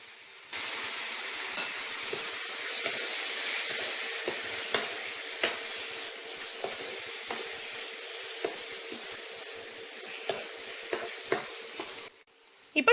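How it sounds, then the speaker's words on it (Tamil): Chicken sautéing in oil in a pan for a Christmas chicken stew, a steady close sizzle with scattered scrapes and stirring clicks, ending in a brief pause and a clatter. "சிக்கன் சேர்த்து அந்த எண்ணெயில் 2 நிமிஷம் வதக்கிக்கோங்க."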